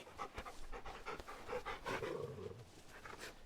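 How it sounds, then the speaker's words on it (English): A dog in the video game Final Fantasy XVI panting quietly, quick rhythmic breathy huffs repeating steadily with no talk over them. "You can pet the dog!"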